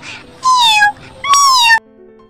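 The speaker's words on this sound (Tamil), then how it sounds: "அச்சோ அச்சோ செல்ல பூனை அழுவாதீங்க." A pet cat meows twice, loud and close, each meow a drawn-out cry with a short pause between them, followed by quiet.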